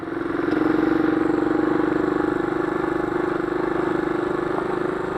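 A Honda CT70 motorcycle engine runs steadily in second gear along an old gravel road, a close, continuous putting drone that holds even throughout.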